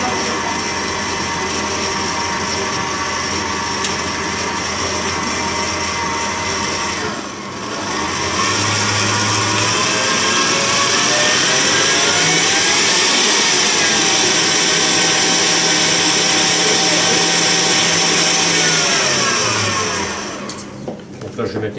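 An electric mixer whirs loudly and continuously while blending butter and dough for Christmas shortbread, its motor pitch shifting briefly partway through, with a short pause and people talking over it.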